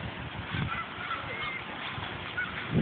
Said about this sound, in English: Look, Chloe's way over there walking with ducks